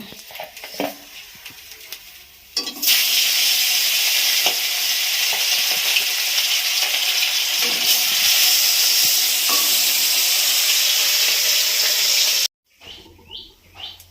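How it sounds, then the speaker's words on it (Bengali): Fish fry in hot oil in a wok with a loud, steady sizzle that starts abruptly, runs for about ten seconds and then cuts off, with faint birdsong and quieter kitchen sounds before and after. "বাকি মাছগুলো ভেজে নেব।"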